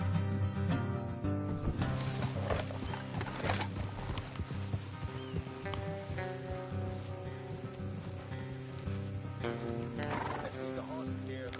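Horses in a video game, with steady hoof clip-clop and occasional whinnies layered over continuous game music and ambience throughout.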